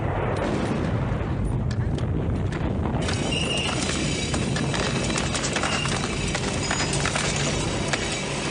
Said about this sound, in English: So right away we have that classic explosion